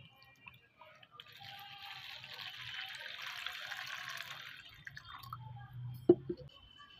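Water runs steadily into a bowl for rinsing rice and lentils, a soft splashing pour lasting several seconds, ending with a few louder drips and a clunk.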